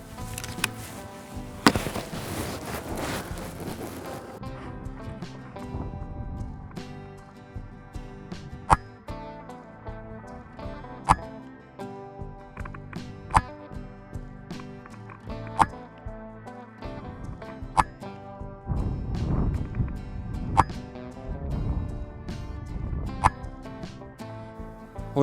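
RTI Compact air rifle firing slug shots in winter, about seven sharp, close pops spaced several seconds apart over a background of music.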